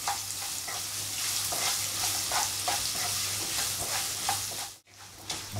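Raw mango slices sizzle in a hot fenugreek-seed tempering, a steady bright frying hiss with periodic stirring scrapes. Near the end the sound cuts out briefly, then resumes. There is no talking.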